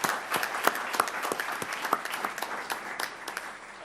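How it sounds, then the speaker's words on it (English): Applause at a board meeting for members' March birthdays: a room of people clapping steadily with dense, crisp hand strikes, moderately loud and fairly close, tapering slightly toward the end. "Let's give them a round of applause."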